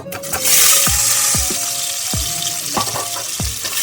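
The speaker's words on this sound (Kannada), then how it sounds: "ಸಣ್ಣ ಉರಿ ಮಾಡಿಕೊಂಡು ಇದನ್ನ ಚೆನ್ನಾಗಿ ಫ್ರೈ ಮಾಡ್ಕೊಳ್ಳೋಣ." Five eggs fry in hot oil with turmeric and chili powder over a low flame, a steady close sizzle broken by several scraping stirs of a spatula against the pan.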